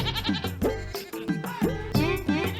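Several goats bleat in overlapping, wavering cries, close and loud, one after another in a steady chorus with little pause.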